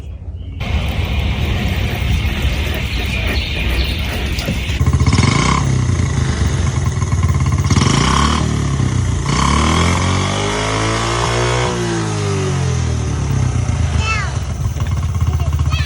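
Forty-year-old Honda ATV engine started and running loudly up close, a steady low rumble that revs up and down through the middle, with people talking over it.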